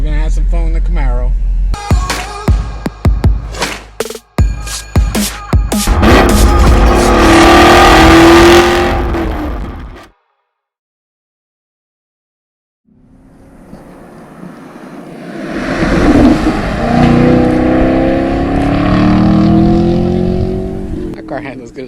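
A Chevrolet Camaro with an aftermarket exhaust revs hard and loud, the roaring engine climbing through several bursts. It cuts to brief silence, then a second long, throaty rev rises and falls, with a voice talking underneath.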